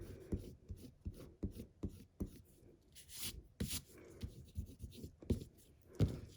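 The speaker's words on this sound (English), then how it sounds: "I'm just going to go in now and just erase my pencil lines" An eraser rubs out pencil lines on white cardstock in rapid back-and-forth scrubbing strokes, a close, dry rasping rhythm that rises and falls with each pass, with no talking.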